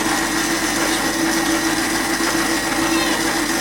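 Cake batter with one egg added is mixed at home, giving a loud, steady motorized whir that runs unbroken throughout with no talking.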